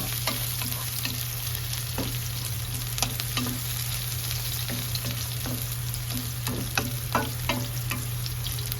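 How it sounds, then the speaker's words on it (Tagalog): Beef and onions sauté in a hot pan, a steady sizzle running throughout with repeated scraping stirs of a utensil, close and alone with no talk. "Ilagay na natin yung karne ng baka. Lagay na natin at igisa natin hanggang sa magbago yung kulay."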